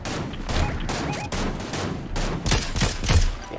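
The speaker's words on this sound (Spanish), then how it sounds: "¿Quién está disparando?" Rapid blaster gunfire rattles in a Star Wars video game, a dense, continuous fusillade of overlapping shots, loud and close, without pause.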